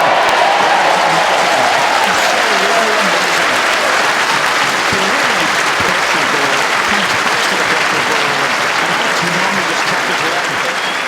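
Sustained crowd applause at the 2016 World Bowls Championship, loud and steady throughout with a broad wash of clapping and faint commentary voices underneath.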